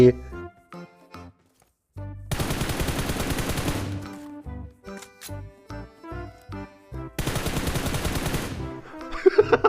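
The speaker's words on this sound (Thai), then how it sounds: "เฮ้ยใครยิงวะ" Automatic gunfire in the mobile battle-royale game PUBG Mobile: two sustained loud bursts separated by a run of single rhythmic shots, with a voice speaking in the gaps.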